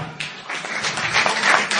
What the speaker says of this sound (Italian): Un applauso, vai!